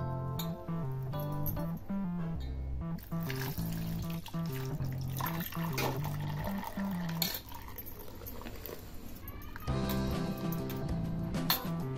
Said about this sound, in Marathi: आता यामध्ये पाणी टाकून धुवून घ्यायचं आहे।